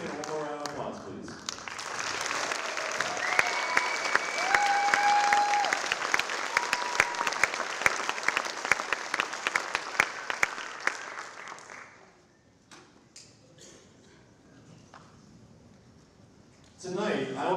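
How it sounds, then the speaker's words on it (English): Audience applause at a high school concert band and wind symphony concert, a dense sustained clapping that swells for about twelve seconds, fades to a quieter murmur, then rises briefly again at the end. "Can I have all 14 of you stand one more round of applause"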